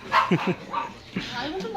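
A pet dog named Rocks at a farm yips and barks in short, close bursts mixed with whimpering, while people chatter and laugh around it.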